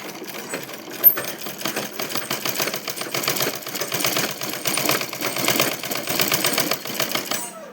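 A sewing machine stitches piping onto a sari border in one continuous, close, steady run of rapid mechanical clatter.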